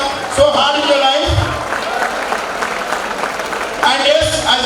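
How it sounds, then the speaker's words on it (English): Audience applause at a college freshers' day event, a sustained wash of clapping from a crowd with voices mixed in, swelling again near the end. "So a big round of applause to them"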